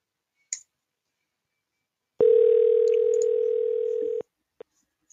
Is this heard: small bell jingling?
no